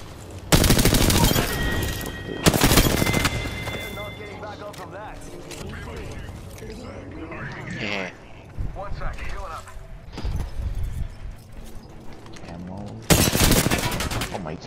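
Gunfire from a gun in a video game: loud bursts of rapid shots open the scene and return near the end, with mechanical clicks and a voice talking in the quieter stretch between.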